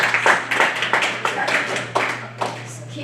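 Audience clapping for the Nebraska Cornhuskers, a small group of hands making sharp, somewhat irregular claps that thin out toward the end, over a steady low hum.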